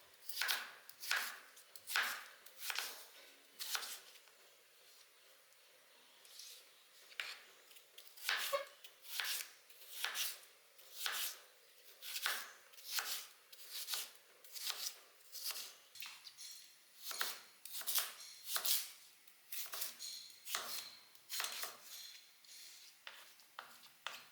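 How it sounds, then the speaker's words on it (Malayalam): A knife chops through home-grown organic cucumber on a cutting board, a long run of sharp, close, rhythmic taps with short pauses, steady and fairly quiet with no talking. "ഇനി അത് നമുക്ക് നുറുക്കിയെടുക്കാം"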